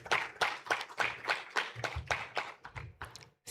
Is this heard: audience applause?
yes